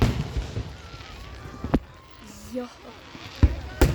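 Outdoor fireworks go off with a few sharp, scattered bangs at a moderate distance, separated by quieter gaps while people talk and react in the background.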